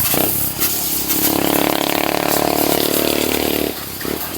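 A motorcycle engine runs steadily nearby, holding a sustained drone for a few seconds before dropping away, with no talking over it.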